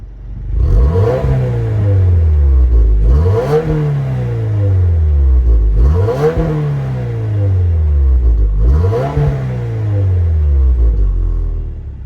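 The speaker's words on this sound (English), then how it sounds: "So let's hear how this baby sounds." Turbocharged 2.4-liter flat-four of a 2024 Subaru WRX Limited, exhaled through a quad-tip exhaust, revved four times in even succession, each a loud rising surge that falls back to a low idle.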